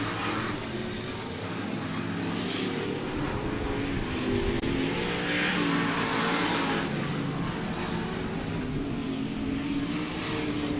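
Race cars circle a track in a two-car battle, a steady loud engine drone with rising and falling surges as they pass, heard from a distance.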